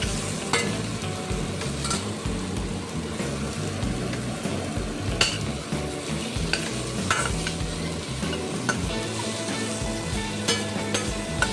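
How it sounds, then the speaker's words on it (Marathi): Grated coconut stirred in a frying pan for Maharashtrian sev bhaji, with a steady, loud sizzle and the continuous scrape of a spatula turning the mixture, close by and uninterrupted. "यामध्ये अर्धा कप किसलेले खोबरे मी घालून घेतले आहे छान पलटून घ्यायचे आहे"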